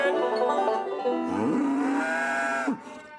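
A cartoonish cow moo sound effect rises into a long drawn-out lowing tone that bends upward and then drops off sharply, loud and alone.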